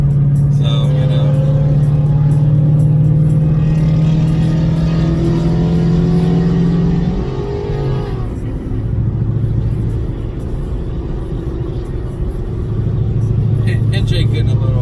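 A car engine hums steadily and climbs in a few mild revving pulls, held short of full throttle, during a drive with friends; the engine drone stays loud and close throughout, with its pitch rising and falling.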